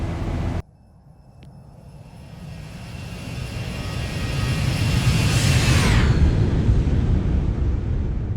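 Boeing 737-800 jet engines in the X-Plane 11 flight simulator, climbing after takeoff: a steady, broad engine roar that swells louder over several seconds, with a high whine fading away near the end, no talk.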